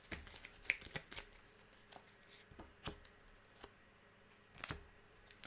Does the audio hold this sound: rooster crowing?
no